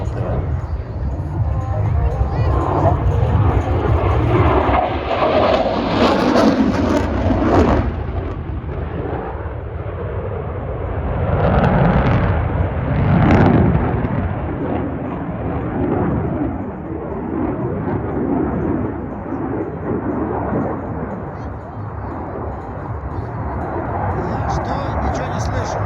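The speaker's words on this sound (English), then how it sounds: "demonstrates the Super Hornet minimum radius turn to vertical tail stand" A Boeing F/A-18 Super Hornet flying a demonstration at an Oregon air show roars loudly and continuously, its jet noise swelling and fading as it passes, with a crowd's voices mixed in beneath.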